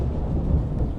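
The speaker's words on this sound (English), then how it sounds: "In Movie Maker, I can see the sound spikes caused by thunder" Low rumbling thunder rolls steadily through a short stretch after a nearby lightning strike under two miles away during a storm, deep and continuous with no voices.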